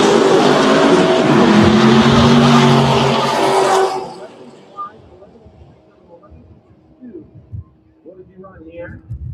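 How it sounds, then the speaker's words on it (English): Ford-powered Geo Tracker drag racing down the track, a loud roaring engine run with tire noise that cuts off abruptly, followed by quieter distant track sounds and scattered knocks. "Derek Adams driving the Ford Power Geo Tracker"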